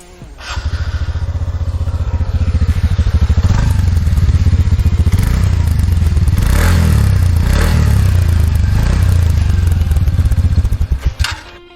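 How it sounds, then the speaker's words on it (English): A TVS Ntorq 125 scooter engine idles with a steady, throbbing exhaust note, loud and close, holding for about ten seconds before cutting off. "now hear the exhaust note of the scooter"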